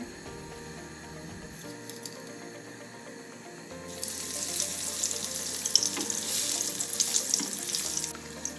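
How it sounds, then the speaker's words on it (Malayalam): A ball of fried ice cream is lowered into hot oil in a small pan, starting with quiet kitchen noise before a bright, steady sizzle and crackle rise up close and continue. "അപ്പം നന്നായിട്ട് ചൂടായ എണ്ണയിലേക്ക് ഞാൻ പതുക്കെ ഇതിനെ വെക്കുകയാണ്"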